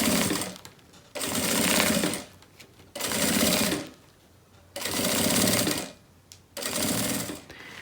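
Sewing machine stitching a plastic canvas beach bag, running in four loud bursts of steady whirring separated by short pauses, with no talking.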